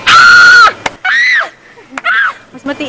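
A person screaming shrilly in long, piercing bursts, three high wails separated by short gaps, loud and close.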